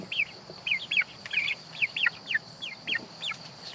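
Free-range backyard chickens give a rapid series of about ten short, upward-inflected calls at close range, evenly spaced over a steady outdoor background hum.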